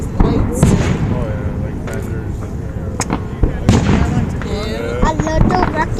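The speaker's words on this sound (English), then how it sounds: "People brought their rocket copters" Small rocket copter fireworks launching at a fireworks gathering, loud bursts and whistling fizzes rising overhead in quick succession, with several sharp pops and people chatting in the background throughout.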